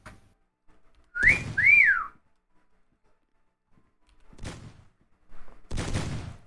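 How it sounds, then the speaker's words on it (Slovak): A person whistles a short rising-and-falling two-note call, loud and near, while brief bursts of speech come before and after it. "zapískaš mi?"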